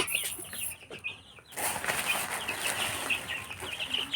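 Young farm chicks peep and cheep in bright, quick bursts while they are fed from a dish, with clucking and a soft rustle of movement around them at close range.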